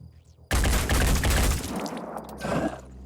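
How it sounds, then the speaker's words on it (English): Assault rifle fire in the video game Blood and Titanium, a sudden loud burst of rapid shots lasting about a second, then a quieter rattling tail and a second smaller burst. "Now, we do have you over here with the assault rifle. We could definitely move in and try and take a couple of shots."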